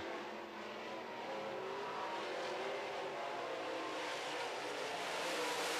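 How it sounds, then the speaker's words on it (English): Dirt track modified race cars roar around the oval in a heat race, a steady, dense engine drone from the pack at a distance that builds slightly toward the end. "Imrie's got that Victory Circle modified moving"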